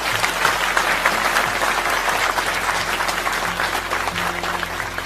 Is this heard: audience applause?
yes